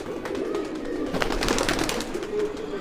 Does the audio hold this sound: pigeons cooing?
yes